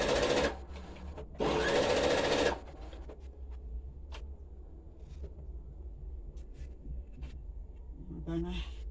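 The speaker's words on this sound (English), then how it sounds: "I'm gonna stitch this on my machine." A sewing machine runs in two loud, steady bursts while stitching a table runner a quarter inch in from the edge. Quieter handling and room noise follow after the bursts.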